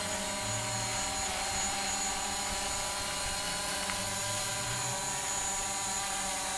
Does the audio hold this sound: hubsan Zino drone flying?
yes